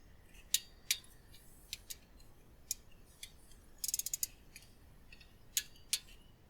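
Ratchet with a 17 mm socket turning a front brake bolt on a Buick Enclave, GMC Acadia, Chevrolet Traverse or Blazer: sparse, sharp metallic clicks, then a quick burst of ratcheting, close and quiet with no talk.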